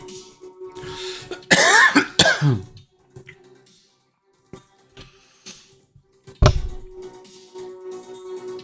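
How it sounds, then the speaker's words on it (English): Harsh bursts of coughing from one person, a tight cluster of several coughs close to the microphone followed a few seconds later by one more sharp cough, with quiet room sound and faint tapping in between. "I am done with the coughing."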